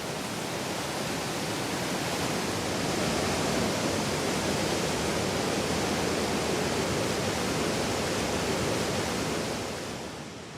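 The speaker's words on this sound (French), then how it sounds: "Étrange vision de l'eau vaporisée qui monte et de celle qui retombe en cascade dans ce décor de légende." Water crashing down in a cascade over stones in a mountain torrent, a steady dense roar that holds loud and unbroken throughout, with no voices.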